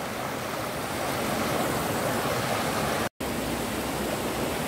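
Water rushes steadily through a rocky stream below Bulawan Falls, a close, continuous broadband wash that cuts out for a split second before resuming unchanged.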